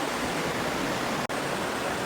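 A river flows at a nature camp in Laguna, a dense, steady rush of water close by that continues without pause, with no one talking.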